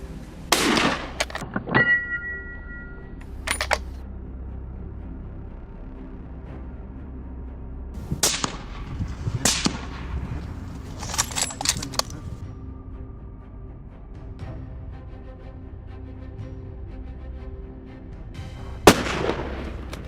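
Gunshots during a hunt, with several sharp, loud reports spaced irregularly, some close together and others several seconds apart, over a quiet outdoor background.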